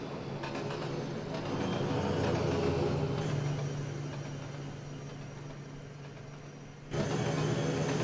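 BR Class 43 HST power car diesel engine in the Trainz 22 railway simulator, a steady mid-pitched drone that swells, eases off, then jumps back louder near the end, with no talk over it.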